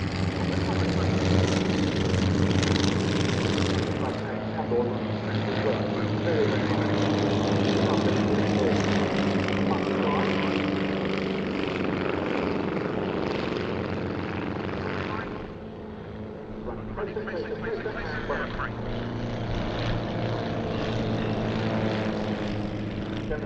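Several propeller aircraft flying low over a ridge-top runway during a military airshow display, a steady loud engine drone throughout that dips briefly near the end, with commentary over it.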